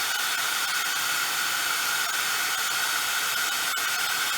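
A heat gun used for heat embossing warms up with a steady, loud, broadband hiss like a hair dryer. The blowing holds constant with no pauses, and no one speaks.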